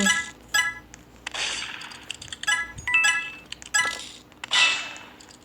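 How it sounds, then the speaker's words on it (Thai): Several sharp gunshots crack out at irregular intervals, with metallic clinks and clangs between them, loud and close: gunfire in a Roblox horror escape game. "โอ้ได้ยินเสียงปืน"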